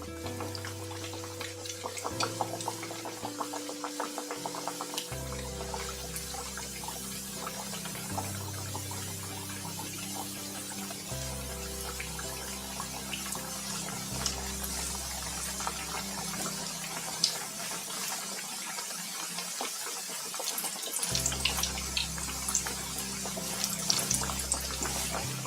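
Khaja dough frying in hot refined oil over a low flame, giving a steady soft sizzle and hiss that runs the whole time beneath a low, changing tonal background.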